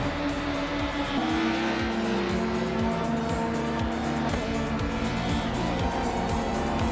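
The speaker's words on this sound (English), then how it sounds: "The Gold Nerd just overtook someone to move into 14th place" Race cars in a racing video game roar in rapid repeated passes, engines revving and whining with tire squeal, loud and continuous with no talk.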